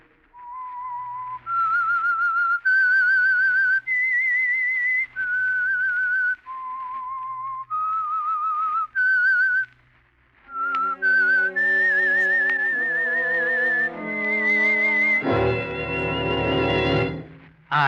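Someone whistles a slow, eerie melody of sustained notes, clear and close, as the theme of a 1947 radio drama, joined partway through by orchestral music swelling beneath the tune.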